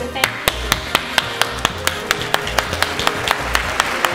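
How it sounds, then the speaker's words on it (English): Slow, steady hand clapping, about four claps per second, crisp and close, repeating evenly over a faint musical background. "Here, so that I can applaud you for once."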